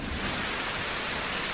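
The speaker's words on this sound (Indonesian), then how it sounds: "Cik, cik, cik, bunyi hujan." Rain falls with thunder, a dense, even hiss of downpour with a low rumbling underneath, steady and fairly quiet throughout with no voices.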